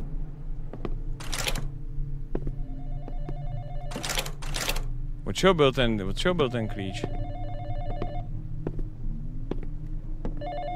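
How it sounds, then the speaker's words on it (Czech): A telephone rings in the Czech-played horror game Exanimum, sounding in a few sharp, repeated bursts over a low steady drone, with someone talking in between. "Můžu přestat s tím skurveným telefonem."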